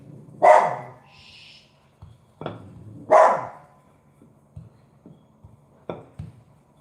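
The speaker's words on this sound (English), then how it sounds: "What are you barking at?" A dog barks twice, sharp and fairly close, with a few quieter yips and small knocks scattered between the barks.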